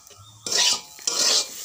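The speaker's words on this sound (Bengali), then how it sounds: "এখানে গাজর আর আলু ভাজা হচ্ছে" Carrots and potatoes fry in a pan and are stirred with a metal utensil. Two short bursts of scraping and clattering stand out over a quiet, low sizzle.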